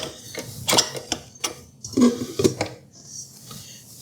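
Dough hook being fitted onto an Instant Pot stand mixer with a tilt head, giving several short plastic and metal clicks and clunks in an irregular sequence, close and fairly loud.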